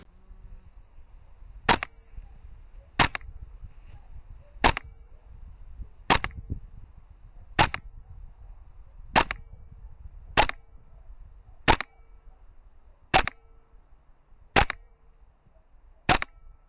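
A KWA Beretta PMX gas blowback airsoft SMG fired one shot at a time, about a dozen sharp, evenly spaced cracks over a quiet, low background rumble, fairly close.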